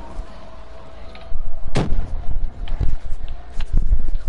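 Grenade explosions and gunfire in a first-person shooter video game: a sharp loud blast followed by several booming bursts and pops over a rumbling, windy background, fairly near and intense.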